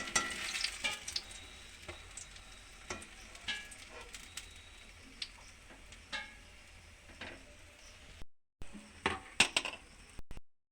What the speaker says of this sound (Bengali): এভাবে আমি সবগুলোই ভেজে নেব।